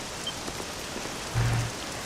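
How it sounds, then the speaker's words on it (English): Rain falling in the video game Dragon Quest 7, a soft continuous hiss of drops with a brief low hum partway through, no voices. "This accursed rain will chill ye to the bone."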